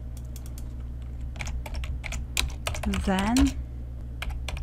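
Computer keyboard keys clatter in quick irregular bursts while code is entered, close and crisp, with someone talking briefly over the typing.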